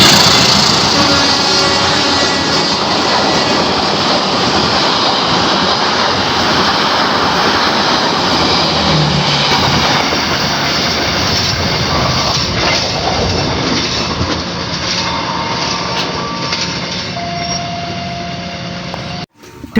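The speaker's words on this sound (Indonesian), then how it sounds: "kereta api Logawa yang akan melintas langsung di stasiun Temuguru" A passenger train rumbles loudly through a station up close without stopping, wheels clattering and squealing on the rails, the roar slowly easing toward the end.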